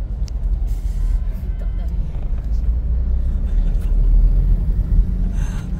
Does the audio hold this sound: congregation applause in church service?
no